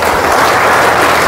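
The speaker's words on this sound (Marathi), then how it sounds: "सर्वांनी आपल्या ठिकाणी आपणासाठी इथं टाळ्या वाजवायचे." A crowd of farmers at a meeting claps together, a dense, loud, continuous roar of applause filling the space without a break.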